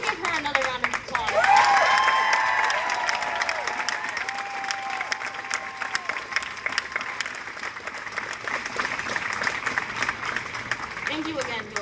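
Clapping from an audience after a speech at a Black Student Union gathering, a sustained round of applause that swells early and then holds steady, with scattered cheers and voices murmuring beneath it.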